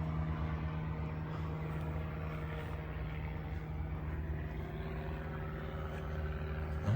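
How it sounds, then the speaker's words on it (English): A propeller airplane passes overhead above a downtown Vero garden, its low engine drone steady and moderately loud throughout, with no speech. "Go away, plane. I don't like to listen to you."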